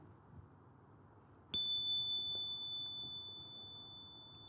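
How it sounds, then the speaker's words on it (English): A chime rung once during a temple worship service gives a sharp, bright strike that rings on in a clear, sustained tone slowly fading in a quiet room. "Go ahead and ring that chime now and listen deeply."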